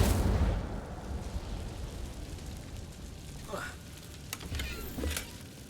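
In Hogwarts Legacy, the Incendio fire spell opens with a loud, fiery burst that fades into a crackling hiss, with game voices and effects following.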